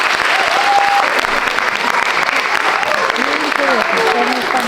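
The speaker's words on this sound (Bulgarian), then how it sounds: "Аплодисменти!" Loud, sustained applause fills the hall at an amateur theatre festival awards ceremony, with voices calling out and cheering over the steady clapping.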